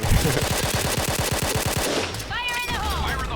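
Rapid automatic fire from a T77 rifle in the Point Blank shooter game, a fast steady burst of about a dozen close, loud shots lasting roughly two seconds, followed by game effects and brief chirping sounds.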